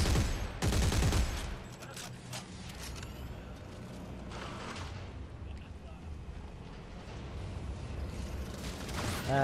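Gunfire in the sci-fi horror shooter Dead Space 3 during co-op play, a dense stretch of loud bursts and rattling shots under a constant roar of combat noise.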